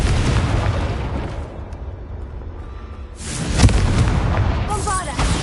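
A Confringo blasting spell goes off in a wizarding video game as a loud burst after a spoken incantation, followed by a rumbling blast and debris over continuing game ambience.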